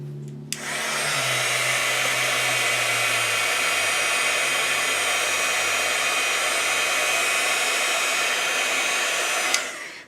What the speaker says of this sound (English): we're going to speed up that process by using my heat gun, or my heat tool.